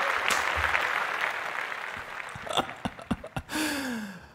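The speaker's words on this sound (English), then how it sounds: "These claps are for you." A short burst of hand claps follows an exhale, a few sharp claps in quick succession near the end.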